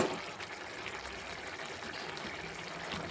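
Fried bajjis being dropped into a simmering tomato curry, giving a steady soft bubbling and liquid wash that stays even and moderately quiet throughout, with no voices.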